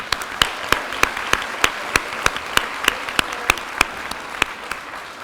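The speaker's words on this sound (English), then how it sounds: "Let's give them a round of applause." Applause for a graduating class at a 2016 school graduation ceremony, heard as sharp, evenly spaced claps in a steady rhythmic beat, moderately loud over a quiet hall background.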